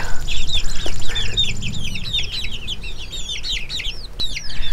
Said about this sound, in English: these are the 26 chickens that we got in from McMurray Hatchery